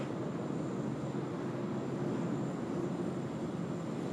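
A Jetstar aircraft's engines roar steadily at Sydney Airport, a broad, constant rushing drone held at an even, moderate level from start to end with no voices.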